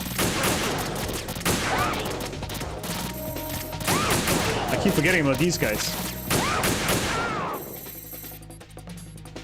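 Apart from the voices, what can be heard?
gunfire in video game Metal Gear Solid 2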